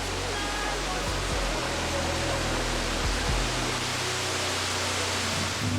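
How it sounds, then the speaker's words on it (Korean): Veliki Slap, the tallest waterfall at Plitvice in Croatia, pours down in dozens of streams: a loud, unbroken roar of falling water with a few low thuds beneath it. "가장 높은 폭포로 알려진 벨리키슬라 폭포. 수십 갈래로 쏟아져 내리는 물줄기가 큰 폭포라는 이름처럼 보는 이들을 압도한다."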